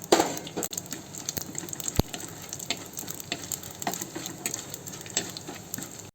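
Cloves dropped into hot oil in a pan crackle and sizzle steadily, with scattered sharp pops and faint metallic clinks over the continuous frying hiss.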